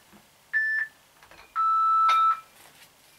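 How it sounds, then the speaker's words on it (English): A workout timer gives two electronic beeps, a short higher tone followed by a longer lower one, clear and close over faint background movement. "Okay, I've got my timer all started"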